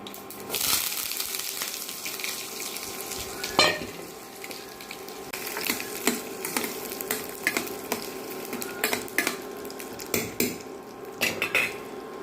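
Mustard seeds, urad dal, onion and curry leaves fry in hot oil for an ivy gourd (kovakkai) stir-fry, giving a continuous close sizzle broken by repeated spatula scrapes and clinks against the pan.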